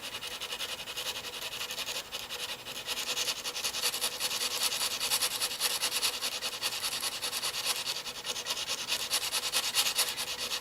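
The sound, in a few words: sharpening a knife on 180-grit sandpaper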